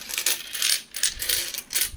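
Metal Indian coins, freshly minted uncirculated five-rupee pieces from the Mumbai mint, clinking and jingling as they are handled, several bright close-up bursts of metallic rattling in quick succession with no talking.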